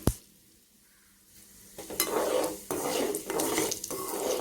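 Mustard seeds, chana dal, urad dal and cumin tempering in hot oil in a pan, starting with a clank, then a quiet gap before a building sizzle and crackle with bursts of spluttering and stirring scrapes.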